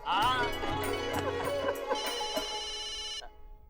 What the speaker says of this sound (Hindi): अरे मेहता साहब का फोन।